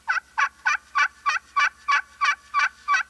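Ten evenly spaced yelps of an imitated turkey, struck on a slate or glass friction call, crisp and close in a steady rhythm, alone with no talk.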